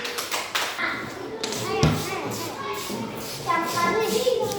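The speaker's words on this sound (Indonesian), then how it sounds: "Oke, tepuk tangan." Young fourth-grade pupils clap together in a classroom, brief bursts of taps and claps mixed with children's voices and shuffling, with a teacher speaking.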